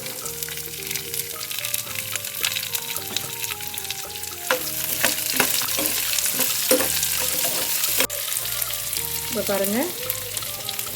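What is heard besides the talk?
chopped onions frying with roasted peanuts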